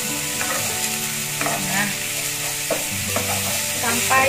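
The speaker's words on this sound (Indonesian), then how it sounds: "lalu saya masukkan daun salam, daun jeruk, serai dan jahenya saya tumis lagi ya" Bay leaves, lime leaves, lemongrass and ginger sauté in hot oil for soto Madura, a loud close sizzle with a spatula stirring and scraping the pan in an irregular rhythm, no voices.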